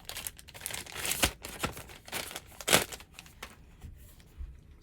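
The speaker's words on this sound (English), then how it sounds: "So we'll rip that open." Sealed plastic packaging around a multimeter is torn and ripped open, giving close, irregular bursts of crinkling and tearing with sharp peaks, alone with no voices.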